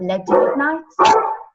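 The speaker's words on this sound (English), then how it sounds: "Oh, sorry, that's my dog." A pet dog barks in short bursts close by, in the middle of a woman's interview answer, with her voice running alongside and between the barks.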